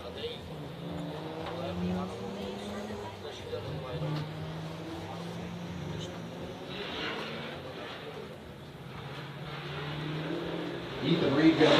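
Two drift cars idle and rev at the line before a battle, a low rumbling engine drone with rising revs toward the end, heard under continuous commentary.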